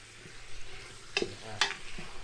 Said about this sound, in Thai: ใส่หอมใหญ่ลงไปผัดด้วยทุกคนเห็นปะ